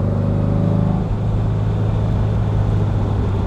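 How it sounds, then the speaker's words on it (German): A 1963 Porsche 356 C Cabriolet with an air-cooled engine rolls past, close and loud, its steady mid-pitched hum holding evenly throughout with no voices. "Und er ist wirklich schnell, also man merkt das, wie er hier absaust."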